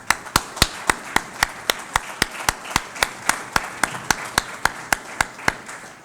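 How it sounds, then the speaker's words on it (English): An audience at an NCO Academy assumption of responsibility ceremony claps in a slow, even rhythm, sharp individual claps spaced about three per second, fairly close and clear with no voices over it. "So I want to give a round of applause to all the NCO Academy non-commissioned officers"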